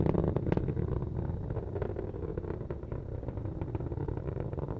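Atlas rocket engine roaring steadily during launch ascent, a continuous loud, rumbling, crackling roar heard at a distance with no breaks and no talk.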